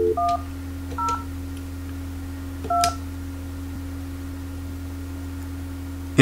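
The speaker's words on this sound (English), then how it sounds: "Push Transfer, dial your extension or phone number" Touch-tone keypad dialing on a Polycom 450 VoIP office phone, three short separate beeps spaced about a second apart over a steady low electrical hum, followed by a quiet pause.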